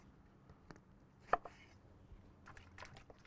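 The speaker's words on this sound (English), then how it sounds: "Just roughly chop them up, so cut them in half, or actually quarters." A knife roughly quartering oranges and apples for a turkey brine, giving a few sparse, close chops with one sharp, louder cut standing out amid faint handling noise.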